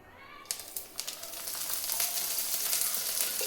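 Oil hitting a hot pan where garlic is roasting for peanut chutney: a few sharp crackles at first, then a close sizzling hiss that swells and holds steady.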